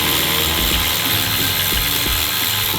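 Ratchet clicking while loosening a 12 mm tensioner bolt on a Subaru WRX/STI EJ20/EJ25 engine, rhythmic ticks heard under a loud steady broadband hiss that fills the whole clip.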